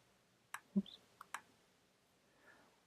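A few quiet, sharp mouse clicks tap out in a near-silent room, spaced irregularly across a couple of seconds.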